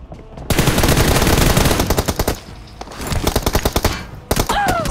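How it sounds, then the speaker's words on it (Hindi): Rapid bursts of gunfire from a mobile shooter game in team deathmatch, loud repeated tap-fired shots in short clusters with brief gaps, close and dominant throughout. "मैं थोड़ा सा टैप टैप करके फायर करता हूँ"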